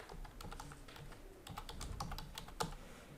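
Quiet, close typing on a computer keyboard, scattered clicks in short clusters with a few brief gaps, faint overall and free of speech.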